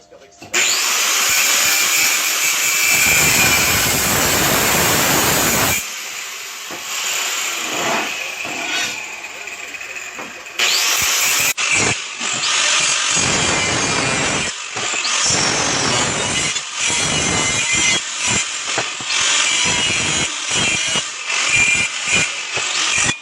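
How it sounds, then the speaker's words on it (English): A power tool cuts notches into square steel tubing during frame fabrication, loud and steady for the first six seconds, then recurring in shorter bursts and grinding passes with brief pauses between them. "we're going to notch all that out and then put it back together"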